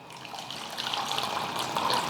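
Warm water pours steadily into a bowl for bun dough, a soft, continuous splashing gush, close by and unbroken.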